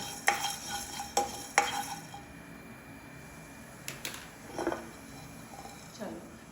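Fennel seeds roasting in a pan, stirred with a spoon: a few sharp metal scrapes and clinks early on, then softer stirring and light sizzle, close by, with some speech in the background.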